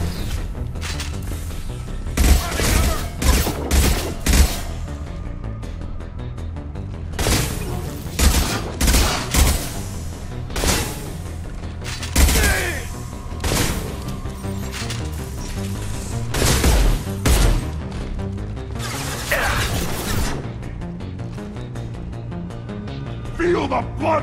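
Repeated shotgun blasts and gunfire in close-range combat in the video game Mass Effect 2, loud bursts spread across the clip over a constant background of game sound and talk.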